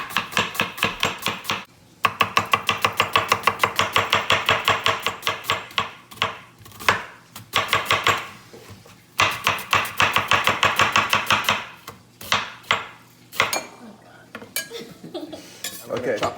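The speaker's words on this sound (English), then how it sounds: "Cut our onion, and we're gonna do a nice julienne." Knife julienning an onion on a cutting board, rapid steady chopping taps in quick bursts with brief pauses, close and clear.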